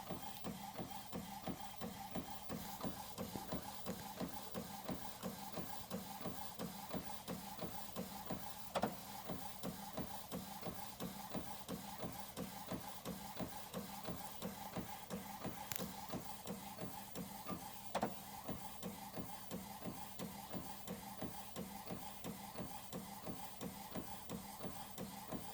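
A new sublimation printer prints with a steady, rapid mechanical rhythm of rubbing, rasping passes that repeat evenly throughout, fairly close and alone, with a couple of brief clicks along the way.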